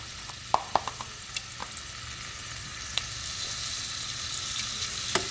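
Thinly sliced marinated beef sears in a hot pan with a steady close sizzle, punctuated by sharp pops and clicks as pieces land and spatter.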